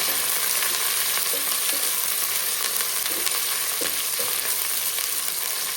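Onions browning in hot oil for a Telugu pumpkin curry give a steady, close sizzle, punctuated by regular light scrapes and taps of a stirring spoon.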